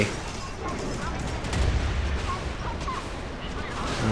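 Heavy booming naval cannon fire from a JS Mogami frigate in a naval warfare game, deep rumbling blasts rolling together with a continuous low roar, fairly loud and close.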